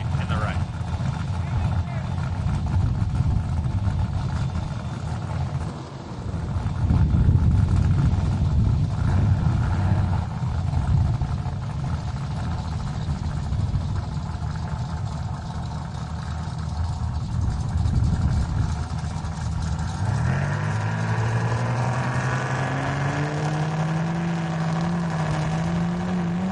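A 1995 turbocharged Mustang launches at a drag strip during Hot Rod Drag Week in Great Bend, Kansas, a sustained loud engine roar rising into a climbing rev near the end, with an announcer talking over it.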